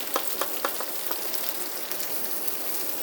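Garlic and spices frying on a tawa for bhindi, a soft, continuous sizzle with scattered little pops and crackles, heard close but quiet and without any voices.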